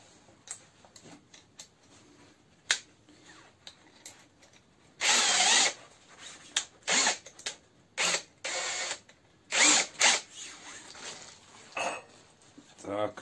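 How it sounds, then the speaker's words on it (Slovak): A Parkside Performance PSBSAP 20-Li A1 cordless hammer drill in hammer mode at speed two runs in repeated short bursts, loud and close, with quiet pauses and small handling clicks between them. "To už máme zapnutý príklep, dvojka rýchlosť."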